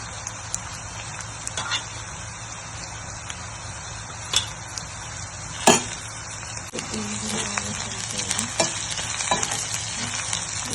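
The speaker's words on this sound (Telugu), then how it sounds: "ఆనియన్స్ ఫ్రై అయిపోయాయి" Onions fry in a pan for a potato kurma, a continuous sizzle with occasional sharper pops and a few louder stirring scrapes, heard alone without speech.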